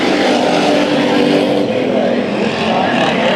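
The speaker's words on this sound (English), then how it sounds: "Lap 1 restart of this first heat race for the Hobby Stocks." Hobby Stock race cars roar together on a speedway restart during a heat race, a loud, dense engine drone sweeping past with a faint trace of voice underneath.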